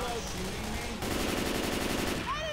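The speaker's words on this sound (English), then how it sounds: "Stop shooting, Josh." Rapid automatic gunfire from the Left 4 Dead 2 video game, a fast, even burst of shots that starts abruptly partway through and runs about a second and a half, fairly quiet in the mix with faint game sounds around it.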